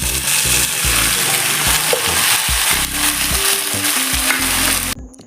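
Carrot, beans and brinjal fry in a pan for hotel-style idli sambar, with a loud, constant sizzle and repeated scraping of the spoon as the vegetables are stirred.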